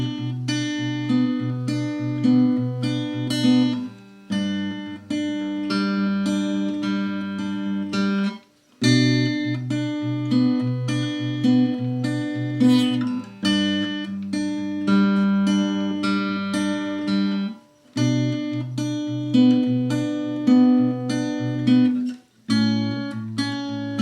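An acoustic guitar plays the chorus of a song, with ringing strummed and picked chords in a steady rhythm. It is close and clear, with no talking and a few short pauses between phrases.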